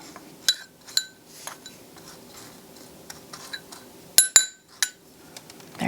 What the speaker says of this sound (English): Simply tap the strainer against the side of the bowl